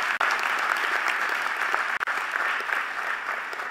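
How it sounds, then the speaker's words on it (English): An audience at a Bowie State University presidential installation ceremony breaks into sustained, loud applause, dense clapping from a large crowd filling the hall without pause. "So please give him a round of applause."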